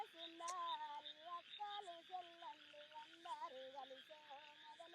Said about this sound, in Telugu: కప్పలు